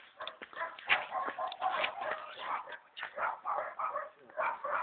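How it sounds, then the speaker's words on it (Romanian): A guard dog in a house yard barks repeatedly in quick rough bursts, loud and close, with voices talking over it. "să nu intri în curtea că te mușcă câinele"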